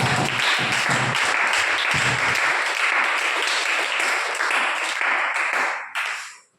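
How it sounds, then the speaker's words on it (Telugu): A church congregation claps loudly in sustained applause that fills the room, then drops off sharply near the end. "చప్పట్లు కొట్టండి గట్టిగా."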